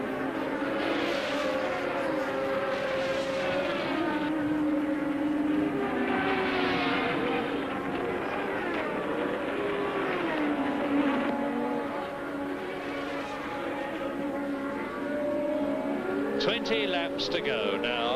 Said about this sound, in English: Nelson Piquet crosses the line to complete another lap